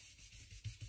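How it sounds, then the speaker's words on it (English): A blending brush rubs over leaf shapes on the inside of a handmade card, giving soft, close, continuous brushing and scuffing with two slightly louder strokes near the end and no voices. "I'll just rub over the top of those leaves"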